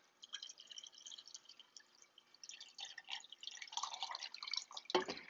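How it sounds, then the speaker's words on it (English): Filtered water trickles and splashes into a glass kombucha jar, a soft, uneven pouring with faint drips and gurgles, quiet and close, ending in a small clunk. "I'm just going to top it off with the rest of the water"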